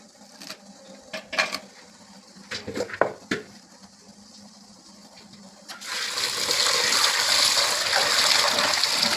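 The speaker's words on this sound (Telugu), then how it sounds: "పాలకూర చక్కగా కట్ చేసుకొని నీటిలో బాగా కడిగి పాలకూరని వేడి చేసుకోవాలి" Chopped spinach being washed for spinach-beetroot chapati: several close clatters and splashes, then a steady rush of running water over the leaves that continues to the end, with no talking.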